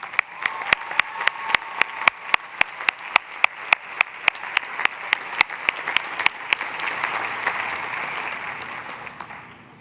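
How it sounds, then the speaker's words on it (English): A commencement audience at a 2019 graduate ceremony applauds friends and family, a long dense round of clapping with sharp individual claps standing out, steady at first and fading toward the end. "can we just take a moment and give them a round of applause?"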